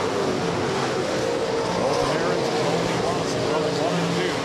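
USRA stock cars racing in a feature event at Rapid Speedway, their engines a steady, dense roar of several cars together with a loud, continuous drone and no breaks.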